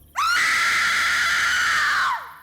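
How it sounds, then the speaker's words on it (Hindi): A woman lets out one long, loud, piercing scream, sustained for about two seconds before trailing off, close and alone. "ये खौफनाक नजारा देखकर क्लोई की चीखें निकल गई"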